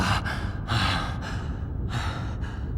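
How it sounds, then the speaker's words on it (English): Heavy, drawn-out breaths in Legacy of Kain: Defiance, three loud gasping exhales in a slow, uneven rhythm, close and alone with no talk. "Heavy breathing."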